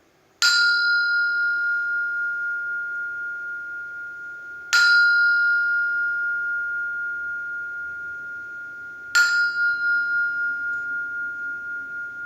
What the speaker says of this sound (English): let's just ring this bell together.